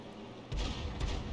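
A tank gun firing in the World of Tanks video game, the Grille's shell striking a building: a faint lead-in, then a deep booming blast with a second rumbling thud just after, fairly quiet overall.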